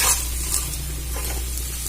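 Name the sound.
chhatu frying in oil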